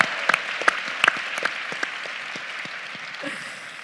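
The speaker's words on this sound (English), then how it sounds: "Let's give Zarina a round of applause." Conference keynote audience applauding, a steady hall-filling wash of many hands with a few sharp close claps standing out early, gradually tapering off.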